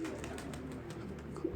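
Pigeons coo softly in a loft, a low steady murmur with a few brief calls rising over it, heard fairly close with no voices.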